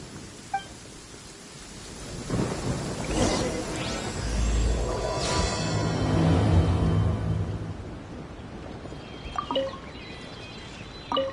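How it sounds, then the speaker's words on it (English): Steady rain falls in a video game scene, a broad rushing wash that swells in the middle with a low rumble, then thins out as faint chirps come through near the end. "The sound of the rain scares them away, but once it stops, they're yours for the taking."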